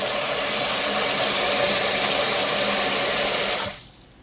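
Tap water pours in a steady, loud rush into a steam pot for cooking corned beef, running for several seconds before cutting off abruptly into near quiet.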